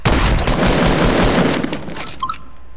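Video game gunfire in a duos match: a loud, rapid automatic burst fires continuously for about two seconds, then cuts off abruptly, leaving a faint game-effect tail.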